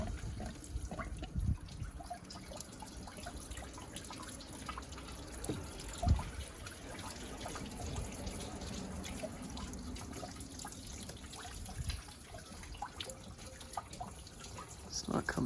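Garden hose water running through a Toyota Corolla radiator during a coolant flush, a steady trickling and splashing flow with occasional drips, heard close and fairly faint, with low speech at moments.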